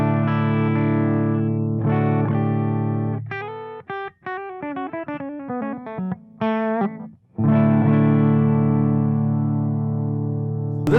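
Electric guitar played through channel 1 of a tube amplifier, loud sustained chords with a quick run of single notes in the middle, then ringing chords again.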